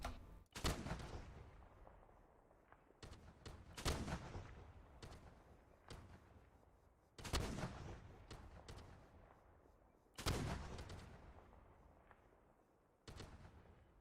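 Artillery fire in a Vietnam war video game: heavy booming shots landing every couple of seconds, each a loud sharp blast with a rumbling decay, far-off and resonant, with no talk over them.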